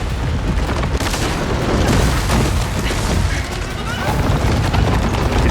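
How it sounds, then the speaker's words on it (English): A Rock Breaker machine attacks in Horizon Forbidden West, with dense, continuous booming, crashing and gunfire-like bursts filling the soundscape loudly and without pause as battle chaos rages. "Yep, that's a rock breaker, alright."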